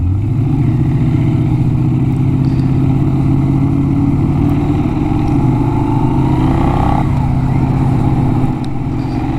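A Benelli 752S motorcycle engine drones loudly and steadily while the bike is ridden. The engine tone rises and shifts slightly as the rider varies the throttle, with constant road and wind noise behind it.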